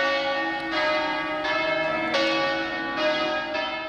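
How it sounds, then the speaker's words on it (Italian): Church bells ring out during a final blessing in a church forecourt in Italy, a steady sequence of resonant strikes, each one swelling and lingering with a rich, ringing overtone. "per l'ultima benedizione scandita dal suono delle campane"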